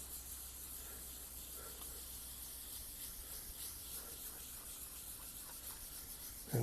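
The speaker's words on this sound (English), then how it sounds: "And just rub it all down real good. Make sure it fades in real well." Steady, soft rubbing on a freshly painted surface during custom paint fade work, a continuous close scuffing hiss that holds even for several seconds with no talk.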